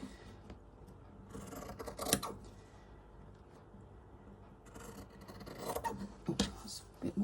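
Scissors snip through embroidery fabric close to the stitching, a few soft crisp cuts and rasping rubs repeating at close range amid quiet handling noise.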